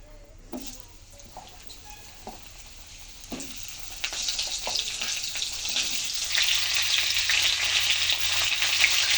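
Vegetables are dropped into hot tempering spices in a pan. After a few light clinks and scrapes, a loud frying sizzle swells and keeps building to a steady roar with no voices.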